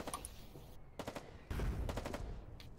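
Artillery fire in the war game Foxhole, heavy booming bursts of gunfire at close range, several sharp reports spaced apart with a louder sustained blast near the end.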